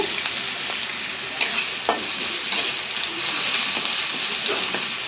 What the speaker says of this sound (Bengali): এখন এই পেঁয়াজটাকে সুন্দর করে ভেজে নিচ্ছি